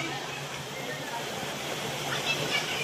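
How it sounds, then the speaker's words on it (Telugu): Ubbala Madugu waterfall gives off a steady broadband rush of falling water, heard fairly close and continuous, with a voice speaking faintly over it. "ఫైనల్లీ ఫాల్స్ దగ్గరికి అయితే వచ్చేసాం."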